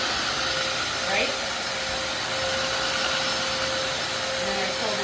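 A Hoover Streamline 2-in-1 wet and dry floor cleaner runs close by with a steady, even whirring hum that holds unchanged for the whole stretch.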